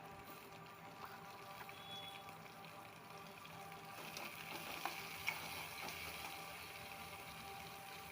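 Onion and tomato masala with curry leaves sautés in a pan, a faint, steady sizzle with occasional light scraping of stirring.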